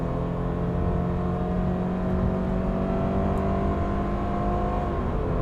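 The 2-liter, 152-horsepower engine of a 2024 Subaru Crosstrek with a CVT drones steadily under hard acceleration, a sustained, even engine hum heard from inside the car with no talking.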